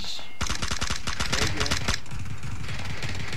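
Rapid bursts of automatic gunfire in the video game PUBG, loud and close, crack in quick succession before slowing into sparser shots and a low rumble, with a commentator's voice faintly underneath.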